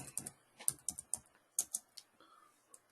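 Keys on a computer keyboard are tapped in short irregular bursts, about a dozen quiet clicks with small gaps between them, close by and faint, with no voices.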